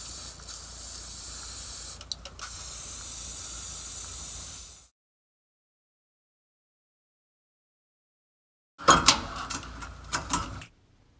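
Penetrant spray hisses from an aerosol can in two bursts onto an air brake S-cam, a steady close spray lasting several seconds, then silence, then a shorter sputtering burst.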